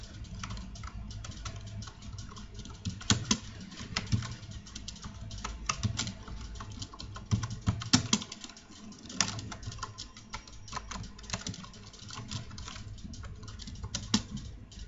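HTML code being typed on a computer keyboard, a quick, uneven patter of close key clicks in bursts with short pauses between them.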